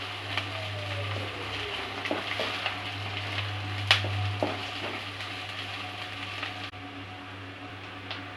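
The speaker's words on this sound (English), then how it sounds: "Saute for 2 minutes on medium flame." Dal fry ingredients sauté on a medium flame with a steady sizzle throughout. Spoon stirs scrape and clink against the pan, including one sharp metallic tap midway.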